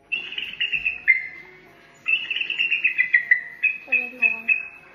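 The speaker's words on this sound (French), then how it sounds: "Voici un son de aigle." An eagle call played back on an Alexa smart speaker, a series of shrill, high, piping cries in two bursts separated by a short pause, clear and close.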